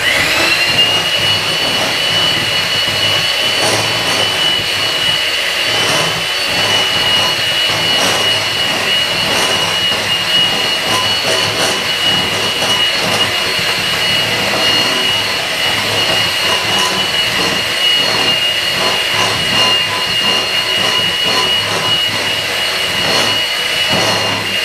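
Electric mixer beating vegan chocolate cake batter in a bowl, a loud, steady whirring drone with a high motor whine that runs unbroken throughout, no voices over it.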